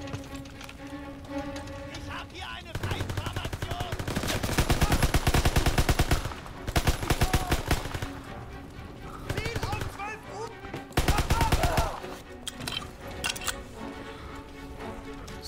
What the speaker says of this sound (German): Wir machen mal den Schalldämpfer ab, dann knallt's mehr.